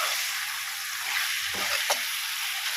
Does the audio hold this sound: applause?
no